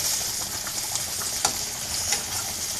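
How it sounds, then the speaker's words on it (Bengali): Onion and garlic frying in oil in a wok give a steady close hiss of sizzling, with a few soft stirring scrapes and clicks and no talk. "কড়াইতে তেল, পেঁয়াজ আর হচ্ছে রসুন দিয়ে দিয়েছি"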